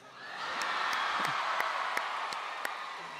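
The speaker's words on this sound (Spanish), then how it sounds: "Fuerte aplauso para Allen 4 y todo el equipo del Desafío" Steady applause from a crowd at the ESLAND awards ceremony, with scattered whoops and cheers rising over sustained clapping throughout.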